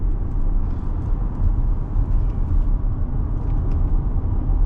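A 2024 Porsche Cayenne SUV being driven hard into corners, its engine giving a steady, loud low rumble and road roar throughout with no break.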